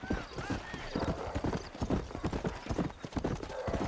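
Horse hooves trotting in a video game, a brisk steady clip-clop at close range, moderately quiet, with a soft whinny-like tone early on.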